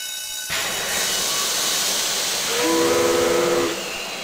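A steam train in the game Grandia lets out a sudden loud hiss of steam that holds steady, and a shrill steam whistle rises over it for about a second before the hiss continues.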